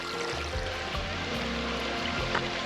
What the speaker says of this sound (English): Well, it's just these little falls all the way down here.